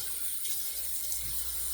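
Water runs steadily from a bathroom tap into a sink, a constant close splashing hiss with no pauses, as the face is re-wet before lathering for a wet shave.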